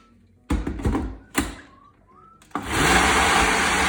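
A blender mixing pancake batter whirs in short bursts, then kicks into a steady, loud continuous blend, close by.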